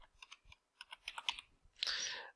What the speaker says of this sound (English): So we're going to type in last name equals Smith.